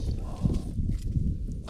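Wild horses on the Outer Banks of North Carolina walking nearby, with soft, irregular hoof thuds over a low rumble of wind and ambient noise.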